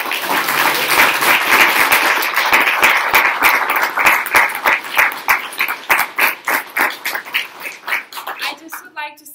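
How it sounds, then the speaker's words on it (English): Audience applause at a university anthropology honors thesis presentation event: dense, loud clapping from a roomful of people that thins into scattered individual claps and fades out near the end. "Let's give her a round of applause."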